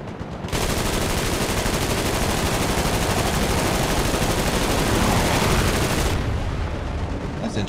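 Aircraft guns firing in War Thunder, with MG 151 cannons, a loud continuous burst of rapid fire lasting several seconds alone, with no voices.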